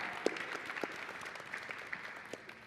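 An audience applauding after an author's book talk: faint, thin scattered clapping, a few sharper claps standing out against a quiet room.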